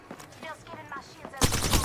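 Gunfire in the Apex Legends battle royale game, with someone talking over scattered faint shots before a sudden loud, continuous burst of automatic fire fills the last half-second.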